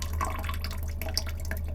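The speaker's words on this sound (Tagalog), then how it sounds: "Ganyan lang yung tulo na bigay ng Prime Water." Water drips from a faucet fed by the PrimeWater supply at 4 AM, a quick patter of small, close drops over a steady low hum.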